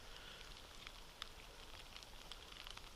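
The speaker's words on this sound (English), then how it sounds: "It's definitely rain and not snow." Light rain falling on open winter hillside in the Cheviot Hills, a faint steady patter with scattered soft drop ticks.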